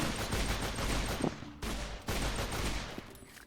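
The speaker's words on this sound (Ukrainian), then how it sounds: "Ага, ну стріляємо виходить" Sustained gunfire in a zombie apocalypse video game, dense bursts of rapid shots with brief pauses between volleys, fairly low in level.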